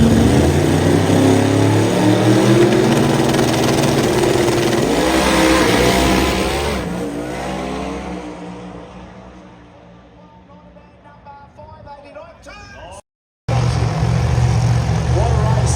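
Import race cars with rotary, RB and 2JZ engines roar hard down a Brisbane drag strip, loud continuous engine noise that fades into the distance, then cuts back in loud and close.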